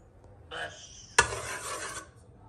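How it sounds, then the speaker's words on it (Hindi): Spoonfuls of ghee dropping into a pan for chana dal halwa, a soft scrape followed by a sharp clink and a brief sizzling hiss that fades within a second, close and fairly quiet. "ये जी घी डल रहा है इस वक्त"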